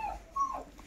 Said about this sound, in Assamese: চাচোন চা বিগেল হয় একদম ফেভৰেট কুকুৰটো